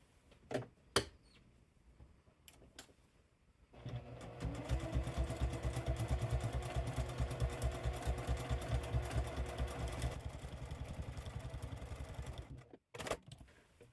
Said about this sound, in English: all I'm going to do is quilt stitch this in just a random pattern